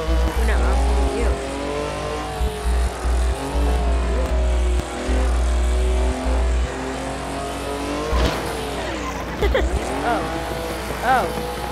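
Race car engines in the racing game Assetto Corsa drone loudly and steadily, rising and falling with revs and gear changes, while tires squeal now and then and a voice chats over the racing.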